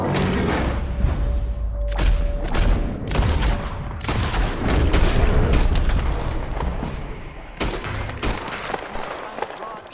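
Gunfire from the Red Dead Redemption 2 video game, a dense burst of repeated shots and booms mixed with battle noise and shouting voices throughout.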